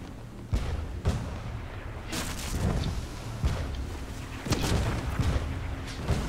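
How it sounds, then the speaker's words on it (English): Heavy booming ship cannon shots fire at irregular intervals in the game Blazing Sails, each a sharp thump over a constant loud rumble of battle noise. "Let's use the front cannon on our way."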